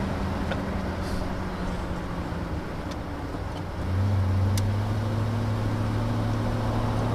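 A 1967 Mercury Monterey S-55 convertible with a 428 V8 and C6 automatic pulls away, its low steady engine drone stepping up in pitch and loudness midway as it accelerates smoothly, heard from inside the car.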